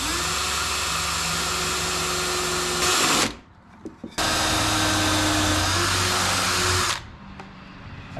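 A power drill drilling through wood for a cornhole board whirs loudly and steadily, stops briefly with a few small knocks, then runs again before cutting off.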